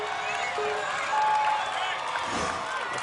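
A crowd cheers and shouts from the stands at American Ninja Warrior National Finals, a steady wash of noise that swells briefly in the middle, with a voice talking over it.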